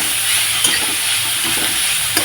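Onions fry for kadai paneer in a pan with whole cardamom, giving a steady close sizzle and hiss with a few soft stirring scrapes and no talking.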